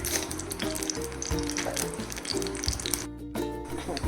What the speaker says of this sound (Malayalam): ഇനി കടുക് ഇടുക